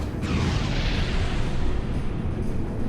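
A missile strikes and destroys a target in the space combat game Star Citizen, giving a dense, rumbling blast that roars steadily for a few seconds with a sharp crack near the start.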